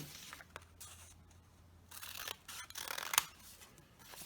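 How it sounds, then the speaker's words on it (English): Quiet, close snips and crisp paper rustles come in short bursts, with a few sharper cuts toward the end. "So you'll grab your scissors and just cut along that line."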